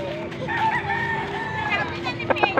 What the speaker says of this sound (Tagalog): Basilan chicken